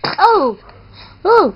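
A baby gives two sharp, close sneezes about a second apart, each a loud, tonal, falling burst.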